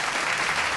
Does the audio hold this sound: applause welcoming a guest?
yes